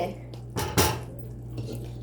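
A metal lid clanks down onto a pot of prawn sambal with a couple of quick clinks, over a low steady hum.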